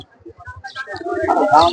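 Pigeons cooing at a busy pigeon market, a run of soft low coos up close while people talk over them.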